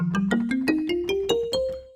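Soft FM-synthesized marimba-like synth tone plays a quick rising run of about nine short mallet-style notes, clean and alone at moderate volume.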